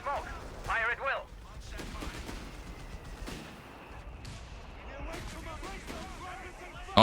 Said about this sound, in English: All batteries, probing barrage on my smoke. Fire at will.